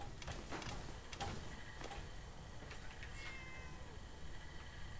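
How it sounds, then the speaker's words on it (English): Cat meowing in the video game Fallout 4, a few short, faint meows spread over a low, steady background hum, with no talking over them. "I hear a meow. I don't know where it's coming from."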